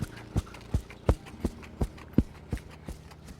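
Hooves of a horse being ridden outdoors in the Navajo Nation clip-clop in an even walking rhythm, about nine distinct, close, crisp strikes spaced roughly a third of a second apart over a quiet background.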